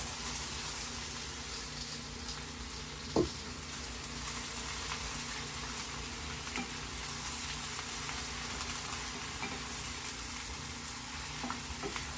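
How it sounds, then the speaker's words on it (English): Mushrooms and onions sautéing in a pan, a soft steady sizzle with faint scraping from stirring and one brief louder knock, quiet and without speech. "That way we have some sauteed mushrooms and onions mixed together. So once I'm stirring this here in a couple minutes"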